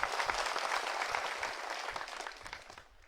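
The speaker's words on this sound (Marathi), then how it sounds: "यांच्यासाठी टाळ्या वाजून यांचं अभिनंदन करा." A crowd at an outdoor political election rally applauds steadily, the clapping fairly distant and slowly fading over a few seconds.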